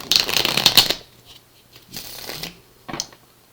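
Tarot cards are shuffled in a quick riffling burst, followed by two shorter shuffling rustles, close and crisp.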